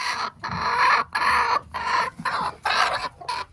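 Backyard chickens, including a broody hen, clucking up close in several loud, drawn-out bursts separated by short pauses, with no talking.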